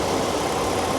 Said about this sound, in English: You can hear the pin drafter just started behind me.